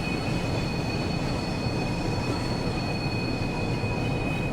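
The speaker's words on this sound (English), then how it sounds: "let's watch the train as it goes over the points" A train rumbles over points in a train simulator game on the Cathcart Circle line, giving a steady, moderately quiet rolling drone with faint high wheel squeal and no distinct clicks or voices.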